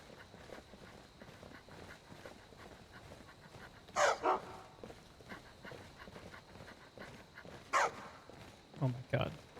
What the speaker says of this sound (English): Barking dogs in this game.